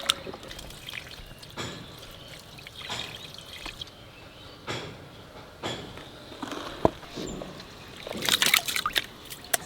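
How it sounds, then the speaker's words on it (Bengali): Rice being washed by hand in a bowl of water for homemade puffed rice, with repeated pours, trickles, sloshing and dripping in bursts, fairly close and moderately quiet. "চালটা ভালো করে ধুয়ে নিলাম।"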